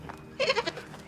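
A farm goat bleats once, a short wavering cry at moderate distance in a quiet outdoor setting, with no talking over it.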